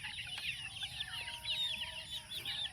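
Chickens cluck at morning feeding time, a busy chorus of soft overlapping clucks and chirps from a flock nearby under a steady background hiss.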